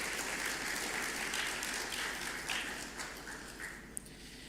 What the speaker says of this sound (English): I would ask you to give a round of applause to him before he goes